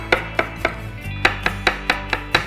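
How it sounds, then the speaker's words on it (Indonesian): A knife chops garlic cloves on a cutting board in a steady rhythm of about ten sharp, close strikes, with a low hum of a lit stove underneath. "Kita rajang sekarang bawang putihnya"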